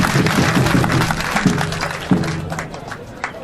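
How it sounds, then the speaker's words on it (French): Crowd applauding the newly installed ninth village chief at an investiture ceremony in Assaoufoué, Côte d'Ivoire, a dense burst of clapping with speech-like voices mixed in, fading toward the end. "Et il faut l'applaudir."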